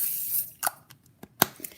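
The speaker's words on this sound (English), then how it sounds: "I'll give my pixie spray a little shake and then just a quick once over." Two short, sharp hisses of pixie spray from a nearly empty bottle pass over a handmade card, with faint handling noises between them in a quiet room.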